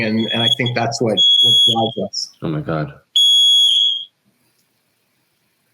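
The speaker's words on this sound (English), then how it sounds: "I think that was the fire alarm." A smoke or fire alarm goes off indoors in two loud, sustained high-pitched bursts, the first sounding under people talking and the second ringing out clearly on its own before cutting off into silence.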